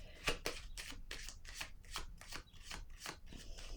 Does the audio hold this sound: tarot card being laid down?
yes